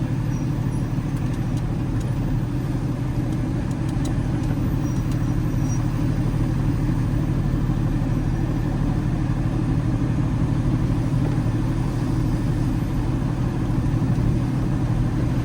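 A car driving through the hillside residential streets of Pacific Palisades, heard from inside as a steady, close low engine and road rumble that runs continuously with no talk.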